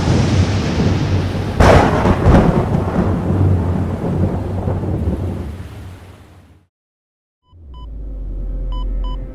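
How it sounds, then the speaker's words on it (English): Heavy thunder cracks and rolls through a storm with rain, a loud close crash followed by a long rumbling decay that fades out before another low rumble swells in. "Yeah, Barry, the thunderstorm riled us all up here too."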